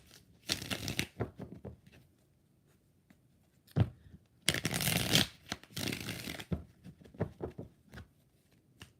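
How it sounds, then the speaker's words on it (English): Tarot cards are shuffled close by in irregular bursts of papery riffling and rustling, with short quiet gaps between the shuffles. "Two more shuffles."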